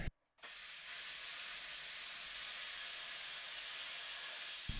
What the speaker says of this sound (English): Yes Welder just sent me out this plasma cutter, also the Cut 55 DS, and it's doing a really good job cutting this out so far